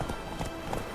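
Hooves clip-clop in a quick trotting rhythm as Geralt's horse Roach moves along in The Witcher 3, a brief run of close, distinct hoofbeats.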